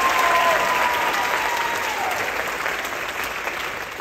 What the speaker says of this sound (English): let's hear it again for Tyson and Jason